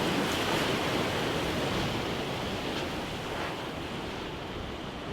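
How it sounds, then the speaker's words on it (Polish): Ocean waves wash onto a city beach in Perth, Australia, as a steady, dense roar of surf that fills the whole clip with no voices. "I będzie fala."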